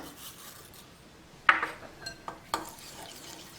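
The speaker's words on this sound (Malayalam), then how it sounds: "ഇനിയിപ്പോൾ നമുക്കിതിലേക്ക് നമ്മൾ എടുത്തു വെച്ചിരിക്കുന്ന എള്ള് ചേർക്കാം" Sesame seeds are mixed into pappada vada batter in a bowl, with a few soft, close scraping and clinking strokes of a spoon against a quiet background.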